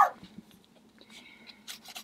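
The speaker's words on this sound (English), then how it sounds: "try to ignore my loud dogs. Dogs are so loud." Loud pet dogs indoors give short barking and huffing bursts at the start and again near the end, with scratchy pen-on-paper sounds in between during a journaling session.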